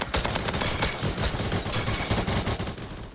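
An icicle launcher gun in the Roblox game Bad Business fires continuously, a dense, loud, rapid volley of shots that fills the whole stretch with no voices.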